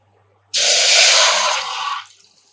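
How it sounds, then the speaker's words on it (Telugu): About 200 ml of water poured into a vessel, a bright steady splashing stream that starts abruptly, holds for about a second and a half, then tapers off, heard alone and close. "ఒక పాత్రలో ఒక టూ హండ్రెడ్ ఎంఎల్ వాటర్ తీసుకోండి"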